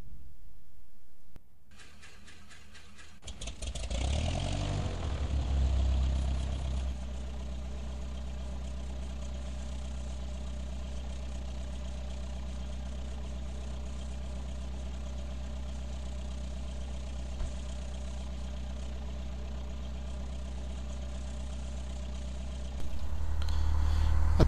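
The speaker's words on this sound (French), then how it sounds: "Séquence allumage moteur." A light aircraft piston engine cranks, catches and settles into a steady, loud, low droning idle inside the cockpit, holding evenly before the revs rise near the end.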